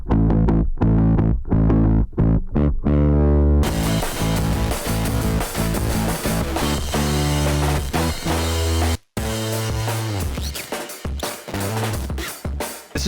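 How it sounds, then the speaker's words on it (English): Funky punk-song bass line processed with EQ, heavy compression, OTT multiband compression and distortion, loud and continuous with a gritty edge, sparse plucked notes at first, then a dense groove with a brief dropout near the end. "and then a little bit of distortion because it's a punk song"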